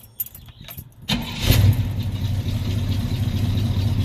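A car engine cranks and catches after sitting unused for six days, then settles into a steady, fairly loud idle, with a few faint clicks just before it starts.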